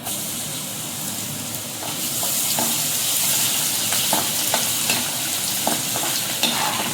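Garlic tipped into chana dal already frying in oil for tamarind rice, making a continuous hissing sizzle that swells after a couple of seconds, with light stirring clicks and pops close by.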